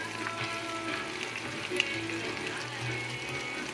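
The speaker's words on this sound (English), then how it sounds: "It's bubbling." Eggplant bubbles and sizzles in a pan, a close, steady wet crackle with watery gurgles throughout.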